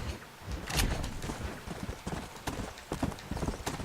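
A horse's hooves clip-clopping in the Red Dead Redemption video game, irregular hoof strikes at a walking pace heard close and moderately loud, with a light snort or whinny partway through.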